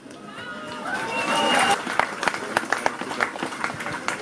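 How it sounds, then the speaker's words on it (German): A crowd at an outdoor peace rally in Berlin claps and cheers, with a drawn-out vocal shout rising over the mix before the applause thins into scattered, uneven claps. "Applaus"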